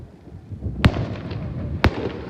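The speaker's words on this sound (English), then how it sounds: "Listen to the echo when another one goes off." Two distant Canada Day firework bursts, about a second apart, each a sharp thud followed by a rolling echo over faint background noise.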